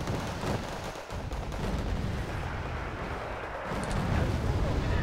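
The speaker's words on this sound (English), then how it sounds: "This bomb should have scared him." A bomb explodes in the war strategy game Wargame: Red Dragon, a dense, continuous roar of blasts and artillery-like booms rumbling on without pause while a voice talks over it.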